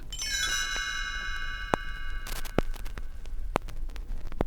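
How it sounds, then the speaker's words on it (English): A bright page-turn chime from a Winnie the Pooh read-along rings out and lingers with a shimmering decay, followed by several faint ticks and taps over a soft hiss. "You will know it is time to turn the page when you hear the chimes ring like this."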